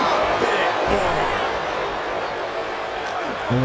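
Arena crowd noise in the wrestling game WWE 2K23, a steady wash of cheering murmur under a commentator's talk, with a few brief thuds.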